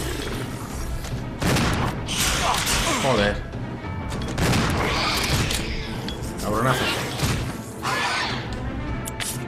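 Three loud shotgun blasts, a few seconds apart, boom through the survival horror game Resident Evil 0 HD Remaster, each followed by crashing and screeching game effects, with someone speaking between shots.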